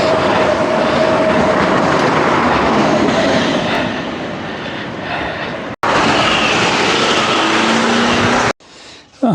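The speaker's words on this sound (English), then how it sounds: "Here comes the tram." A tram rolls past close by, a loud, steady roar and rumble of wheels and motor that dips slightly midway, cuts out abruptly, then leaves a quieter hum.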